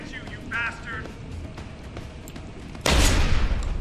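A shotgun blast booms in the Deus Ex: Human Revolution game near the end, a single loud burst that follows faint game sounds and a brief voice.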